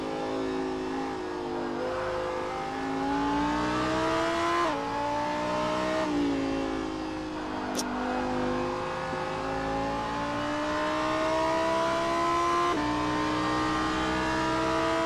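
Onboard a number 42 Lamborghini Super Trofeo race car at Laguna Seca, the engine screams loud and close through repeated rising revs, with sharp gear changes cutting in every few seconds and a brief high squeal partway through.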